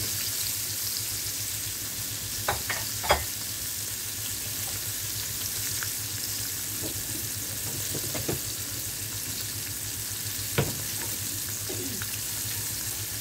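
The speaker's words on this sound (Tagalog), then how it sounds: "Kapag nagpiprito tayo ng bangus, matalsik." Steady sizzle of milkfish frying in oil, with occasional sharp pops and spatters over a constant crackling hiss.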